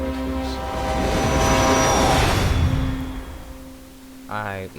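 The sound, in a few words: train rushing past, video game What Remains of Edith Finch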